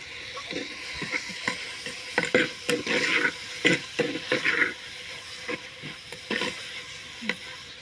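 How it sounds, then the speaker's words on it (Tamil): Chopped tomatoes and curry leaves sauté in a pan for a country chicken rasam, giving a soft steady sizzle broken by repeated scraping stir strokes, close and moderately quiet, with no talking. "தக்காளி அரிஞ்சிருக்கு இதையும் போட்டுக்கலாம் இது நல்லா வதங்கணும் கருவேப்பிலையும் போட்டுக்கலாம்"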